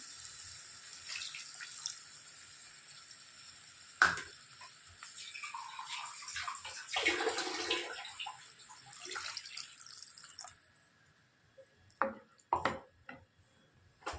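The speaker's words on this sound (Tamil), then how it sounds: "அடுத்து இந்த மிக்சி பவுலை வந்து க்ளீன் பண்ணி அந்த தண்ணியே சேர்த்துக்குவோம்" Water rinsed from a mixer bowl runs and sloshes close by, a trickle rising into a louder pour, then a few splashes and drips.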